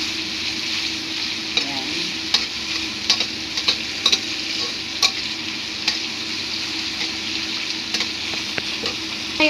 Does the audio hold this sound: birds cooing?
no